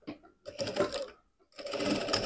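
A sewing machine stitches a fabric strap for a teddy-bear backpack in two fast whirring bursts of about a second each, separated by a short pause.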